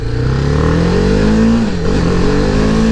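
Steady engine drone of a BMW G310R motorcycle as the throttle opens, pitch rising smoothly then dipping briefly before settling again, loud and close with no voices.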